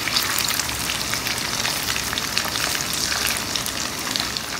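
Food frying in a pan over a medium flame gives a dense, even sizzle and crackle that holds steady from start to finish, close by, with no talking.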